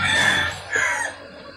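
A chicken being handled lets out two close, loud squawking clucks in quick succession, then goes quiet.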